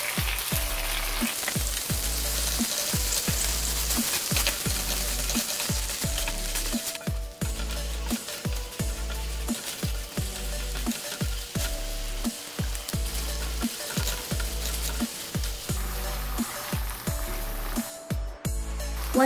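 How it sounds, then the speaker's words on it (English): A sauce of syrup, sugar, soy sauce and paste bubbling in a pan, a steady loud sizzling crackle like rain on a surface, with no talk. "Once your sauce starts to bubble,"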